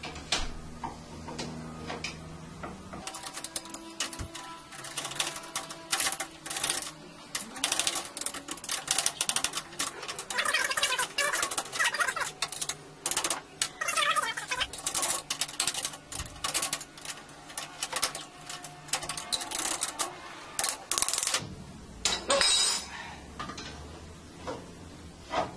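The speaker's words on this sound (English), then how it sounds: "Now it's a matter of leveraging from the back and from the front to get the brake and the blade off together." A SawStop brake cartridge and dado blade are pried off a table saw together, producing irregular metallic clicks, taps and scraping knocks in uneven bursts with short pauses, fairly close.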